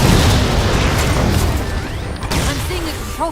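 In Halo 4, an incineration cannon shot explodes with a loud, heavy boom at the start that rolls off into a fading rumble and scattered crackling.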